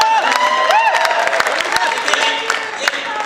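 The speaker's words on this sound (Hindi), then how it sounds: "ताली बजाइए।" Audience applause and cheering at a Hindi hasya vyangya comedy poetry show, steady dense clapping with a few whoops, loud and close, with voices over it.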